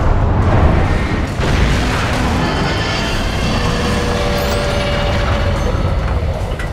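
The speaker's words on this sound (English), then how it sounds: "Okay, it's time for flashbang." A flashbang detonating in the horror shooter Alan Wake: a loud, sustained roaring blast with hissing, ringing high tones that persists throughout, without talk.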